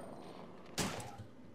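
A single sharp burst of gunfire from the Resident Evil 3 video game cracks out midway over a quiet, faintly noisy game background, followed by a short decaying tail.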